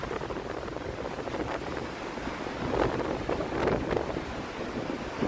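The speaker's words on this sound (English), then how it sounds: "Thanks for bearing with the wind." Strong wind buffets the microphone on the Lake Michigan shore at Oak Street Beach in Chicago in late October. The gusting roar is loud and continuous, and rough surf rumbles beneath it. No one speaks.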